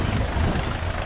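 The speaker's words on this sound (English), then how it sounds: "Helicopter HH-139 is the jewel of the Italian aeronautical industry" An HH-139 helicopter flies past at an air show, a steady loud rotor and engine roar filling the brief moment without a break.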